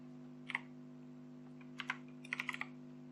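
Sparse computer keyboard typing while coding a JavaScript function, with a short burst of keystrokes, a pause, then a quicker cluster of five or six clicks over a steady low electrical hum.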